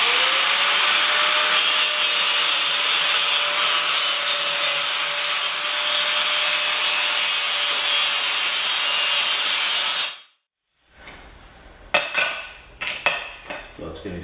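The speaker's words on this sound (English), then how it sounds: "So let's do some grinding." Metal grinding on a snow blower skid shoe with an angle grinder, a loud steady abrasive whine for about ten seconds that cuts off abruptly, followed by scattered clinks and scraping.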